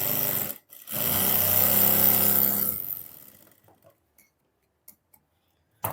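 A sewing machine stitching a trouser hem, running in a fast, loud mechanical burst for about two seconds after a short start, then slowing and falling quiet, followed by a few isolated clicks.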